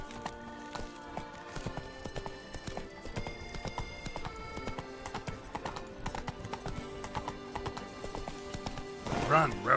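Roach, a horse in the video game The Witcher 3, gallops in a rapid run of hoof clip-clops with game music underneath, ending in a louder burst.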